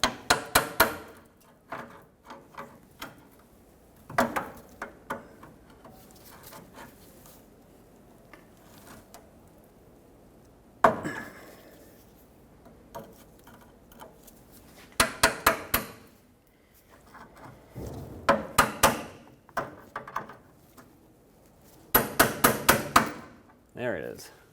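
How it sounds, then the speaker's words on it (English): A hammer strikes a pry bar to tap a locking clip off the rear center brake hose on a 2000-2005 Ford Excursion, giving sharp metallic knocks in scattered bursts of several quick taps with quiet gaps between. "Use a pry bar and a hammer and try to tap this clip out."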